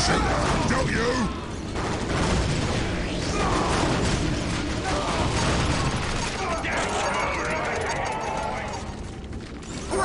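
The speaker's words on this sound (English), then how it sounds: "I love the sound of me shooting" Ork gunfire in the Dark Crusade strategy game: dense, continuous chattering volleys and pops with mechanical clatter running for ten seconds, mixed with voices and battle noise throughout.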